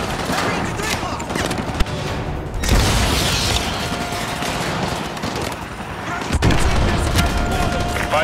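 AGM missile strike in Call of Duty Modern Warfare 2 Remastered, Contingency mission: sustained loud rumbling blasts and heavy gunfire, with sharp impacts near the middle and end, under a dense battle din.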